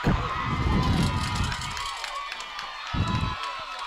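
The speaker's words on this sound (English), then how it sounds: "Lots and lots of cheering going on over at the field behind us." Crowd cheering at a baseball field nearby, a broad wash of shouts and cheers heard from a distance, rising and falling with a few sharp thumps, no clear talk over it.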